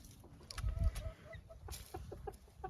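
A hen kept in a backyard flock gives soft, intermittent clucks, close and fairly quiet, with light rustling and farmyard background between the calls.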